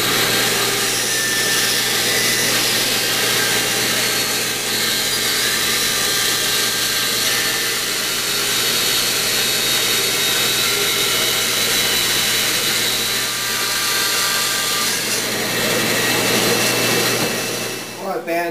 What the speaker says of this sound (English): I can go over to the bandsaw, cut that